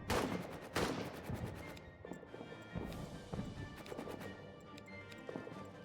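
Grenade attack in All Quiet in the Trenches: a quiet cluster of sharp cracks and bursts at the start, followed by scattered, faint popping gunfire and crashes.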